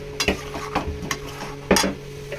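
Spice paste for chicken curry stir-fried in a pan, with a sizzling bed broken by several scraping stirs and a louder scrape near the end, close and fairly loud, no talking.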